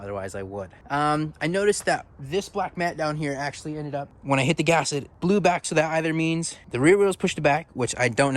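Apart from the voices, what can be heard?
No everyday noises stand out.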